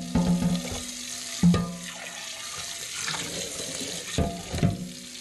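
Hot water runs from a tap over a cast iron pan being rinsed in a sink, a steady close splashing stream with a few louder knocks and surges, no talk.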